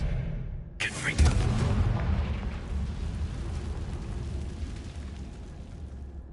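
A Confringo fire spell in the Hogwarts Legacy video game lands with a sudden loud blast that swells into a rumbling, crackling roar and slowly fades, with a voice speaking around it.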